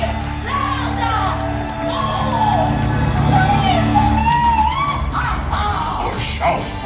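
A crowd at a live Disney World stage show in Hollywood Studios cheers and whoops steadily, loud and sustained, with a performer's amplified voice calling out over it.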